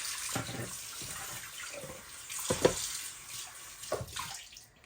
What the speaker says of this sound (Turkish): Güzelce bu soğuk suda bir yıkansın arkadaşlar